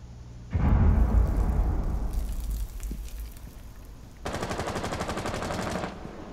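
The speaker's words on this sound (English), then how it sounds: "Someone's shooting into A from outside." Gunfire in the video game Rainbow Six Siege, loud bursts of rapid automatic shots with a heavy opening burst and a later sustained stretch of fast, even rattling, close and dominant without talking.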